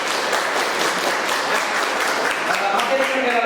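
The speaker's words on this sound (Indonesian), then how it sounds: "Oke, tepuk tangan untuk dia ya." Students clapping in a classroom during a religion lesson on the sacraments, a loud close burst of hand claps sustained evenly across the moment with some voices mixed in.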